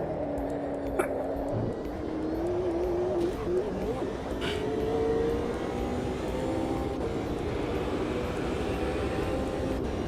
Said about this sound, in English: The engine note changed. That's the new reverb settings.